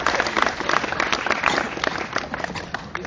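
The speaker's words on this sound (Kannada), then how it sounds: "ಚಪ್ಪಾಳೆ ಹೊಡಿಬೇಕು" Loud, close audience clapping during an Independence Day speech, a dense burst of many hands that holds steady for about three seconds.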